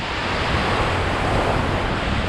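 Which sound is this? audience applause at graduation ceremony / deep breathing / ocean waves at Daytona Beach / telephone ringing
ocean waves at Daytona Beach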